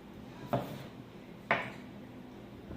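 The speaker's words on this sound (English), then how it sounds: "now it's time to chop up the potatoes" A knife chops through potatoes on a board for a leftover ham and potato soup, giving two sharp, close knocks about a second apart over a quiet kitchen background.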